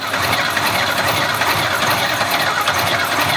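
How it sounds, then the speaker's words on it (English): A cheap, worn Pontiac Fiero engine runs loud and close in a continuous rough drone after cranking, with no pauses or talk over it. "The starter's just coiling back in itself."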